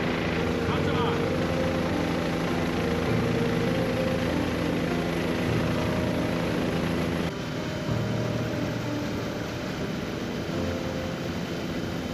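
A helicopter's engine and rotor drone loudly and continuously throughout, a heavy steady roar heard from inside or very close, during a sightseeing flight over the Okavango Delta, Botswana.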